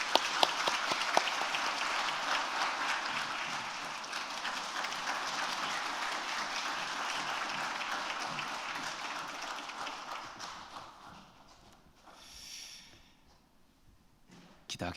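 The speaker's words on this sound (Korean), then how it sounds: "우리 박수로 격려하겠습니다." A church congregation at a Korean Sunday afternoon service applauds, dense clapping for about ten seconds that thins and fades into near silence.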